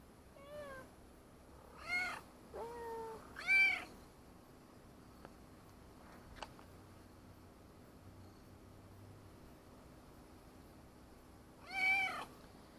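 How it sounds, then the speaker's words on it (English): A cat in Pompeii meows several times, giving short, clear, high-pitched mews spaced a few seconds apart, with the last one after a long quiet gap. "Oh, you're a funny cat."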